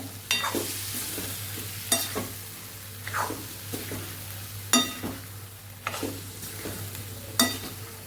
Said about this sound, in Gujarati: જે ગ્રેવી આપણે તૈયાર કરેલી એની સાથે આપણે શાકને સાતળી લેવાનું છે.